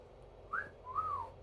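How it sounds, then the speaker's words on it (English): Two rising-and-falling human whistles, a short one then a longer swooping one, like a wolf whistle, over faint background hum. "Can you give me a sexy whistle?"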